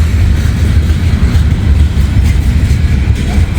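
A train rolls past on steel rails, a loud, close, continuous rumble with rhythmic clatter from the wheels and cars, with no voices.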